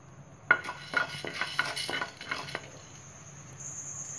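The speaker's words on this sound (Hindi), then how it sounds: "ये फ्राई पैन में सूखा डालू, बिना ऑयल के भूनना है इसको।" Urad dal, chana dal, sesame seeds, red chillies and curry leaves dry roasting in a frying pan without oil, with a burst of scraping and clinking pan strokes that fade into a quiet, faint rustle.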